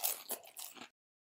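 Crisp, close crunches come from a bite into Magic Spoon Cinnamon Bun cereal, about four quick dry crackling bursts within under a second, fairly faint, then silence.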